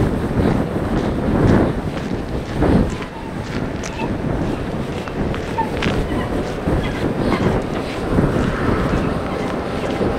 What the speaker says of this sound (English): So the wind right now is very strong, so I'm curious how that's being picked up.